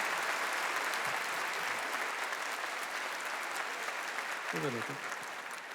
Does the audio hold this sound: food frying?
no